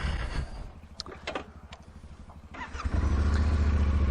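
Yamaha Tenere 700 motorcycle pulling away, with a few low engine rumbles and clicks before the engine rises to a loud, steady drone close by.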